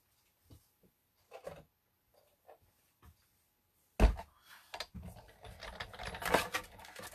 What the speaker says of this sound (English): Now let's take the Santa framelit and we are going to die cut him out.